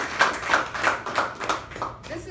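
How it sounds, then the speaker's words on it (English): Close, rhythmic clapping at a Toastmasters-style club meeting, about seven evenly spaced claps from a small group or single person, fading toward the end. "can we have a round of applause for the general evaluation?"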